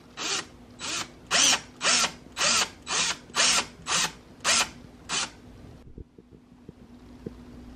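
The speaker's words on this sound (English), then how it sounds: "I just took out this screw with the screwdriver bit" A power drill fitted with a screwdriver bit runs in nine short, evenly spaced whirring bursts, backing a screw out of a wall. Close and loud, it is followed by quiet handling clicks.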